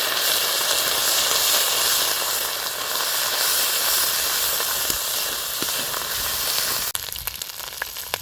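Ginger paste and turmeric sizzle in a hot wok for a Bengali Sheetal Shashthi whole-vegetable dish, a loud continuous hiss of frying that stays steady throughout, with a slight shift near the end.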